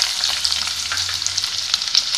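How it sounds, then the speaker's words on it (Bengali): Chopped onions fry in hot oil for a red sauce pasta, giving a steady close-up sizzle with crackling pops and no voices. "পেঁয়াজটা জাস্ট ট্রান্সলুসেন্ট হওয়া অবধি ভাজবো"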